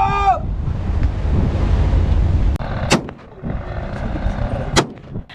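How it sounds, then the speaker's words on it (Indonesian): Two sharp warning gunshots fired into the air crack out a couple of seconds apart over the steady rush of wind and surf outdoors. "Tembakan peringatan ke udara."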